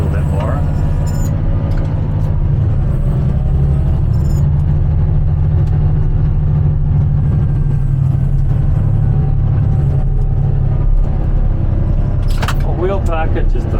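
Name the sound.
machine wheel packing 20mm gravel along a curb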